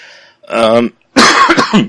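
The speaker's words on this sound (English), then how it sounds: "I still have my cough, which is pretty awesome." Two close, harsh coughs in quick succession, the second longer and more forceful, with a short silence between them.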